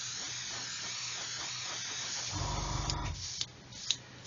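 An airbrush sprays paint during work on a Revell 1/144 Apollo Saturn V model, with a short hissing burst of under a second and then a few sharp clicks, close by, with no talk.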